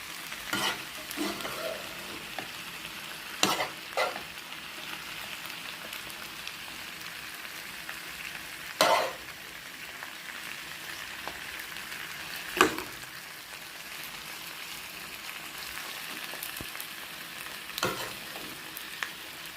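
Onions and garlic frying in a pan produce a quiet, steady sizzle, punctuated every few seconds by sharp clinks and scrapes of a utensil stirring, with no talking.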